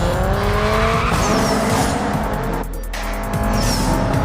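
Racing cars in the mobile game Need for Speed No Limits roar continuously at full volume, with engine revs rising and falling, brief tire squeals and a short dip in intensity midway before the roar resumes.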